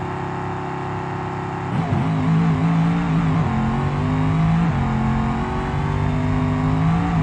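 A nitrous-fed drag car in BeamNG launches off the trans brake. A steady idle drone jumps into a loud, rising engine roar that holds strong and close with shifting pitch and no voices.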